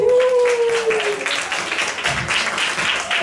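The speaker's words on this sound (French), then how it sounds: "Bravo, on peut s'applaudir" Dance class participants at a samba night applaud themselves after finishing a choreography, a dense, fairly even patter of clapping with a brief voice at the start.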